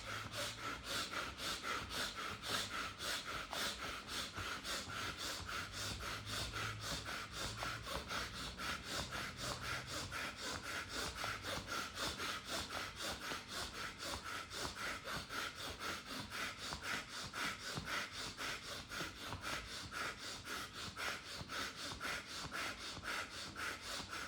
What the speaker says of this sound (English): Now rub your hands along your sides of your upper arms as you breathe in and out.